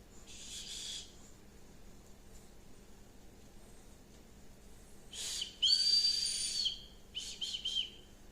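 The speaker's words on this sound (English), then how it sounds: "so you do have a whistle on there" Several short, shrill blasts of a bright orange survival kit whistle in quick bursts, sounding close, with quiet pauses between them.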